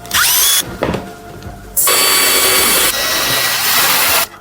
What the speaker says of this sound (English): I'll begin by using a small drill to make a preliminary hole.